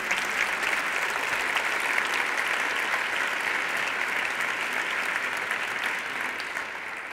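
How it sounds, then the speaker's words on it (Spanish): An audience applauding steadily at an online gala presenting an annual innovation-in-education report, the sustained clapping filling the room for several seconds without a break. "Un aplauso, claro que sí"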